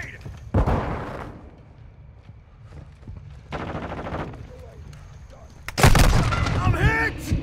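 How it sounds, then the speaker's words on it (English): Grenade blasts and gunfire in Call of Duty: Modern Warfare II on the Black Gate map, with bursts of rapid automatic fire and booming impacts in separate loud waves, along with game voice callouts. "Throwing grenade!"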